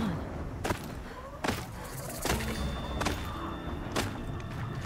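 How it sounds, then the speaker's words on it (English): Distant explosions boom in the Horizon Zero Dawn video game, several dull thuds spaced about a second apart over a steady ambient game background. "explosions and shouts from outside the embrace."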